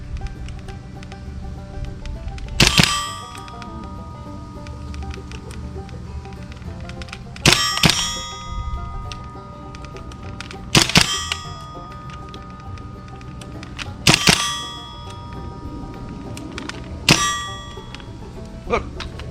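A WE-TECH open-bolt gas blowback airsoft M4 fires single semi-automatic shots. Five sharp, metallic cracks come a few seconds apart over a quiet background.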